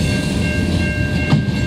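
A CN mixed freight train with tank cars, steel and lumber loads rolls steadily past at sunset in Montreal, a loud continuous rumble with a faint high ring.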